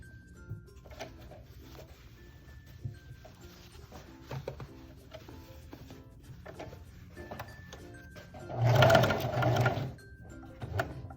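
A sewing machine stitches a dress bodice in short runs of rapid mechanical clatter, stopping and starting for pivots, with a louder, denser stretch of sewing near the end.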